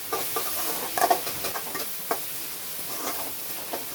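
Onions sautéing with green chillies in a pan for a Tamil fish curry, a steady soft sizzle with scattered stirring clicks and scrapes, close and continuous with no talk.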